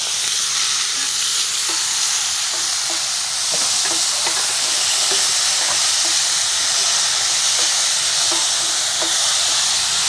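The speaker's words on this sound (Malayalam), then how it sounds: "അതിലേക്ക് നമ്മൾ അരിഞ്ഞു വെച്ചിട്ടുള്ള ഉള്ളിയെ വഴറ്റുക." Chopped onions sizzling steadily in a hot pan with cumin seeds, a loud continuous frying hiss with faint scattered crackles and no voices.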